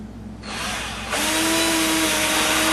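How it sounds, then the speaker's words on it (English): A power drill pre-drilling a hole while building a MAME arcade cabinet control panel, spinning up with a short whine and then running loud and steady at full speed, close by. "Pre-drill a little bit on that one."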